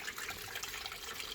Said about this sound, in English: Water's just filling up nicely there.